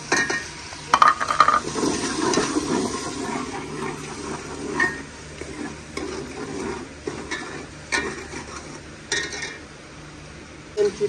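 Chicken with salt, turmeric and chili powder frying in a pan, a steady close sizzle under repeated scraping stirs and clinks of a utensil against the pan throughout.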